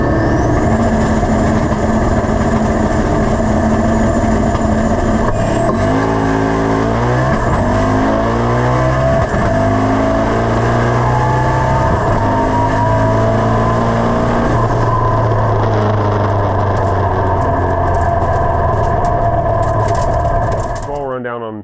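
A Ford Foxbody with a 2001 Corvette LS1 stock-block engine and stick shift roars down a racetrack, loud and steady, its pitch climbing and dropping through gear changes.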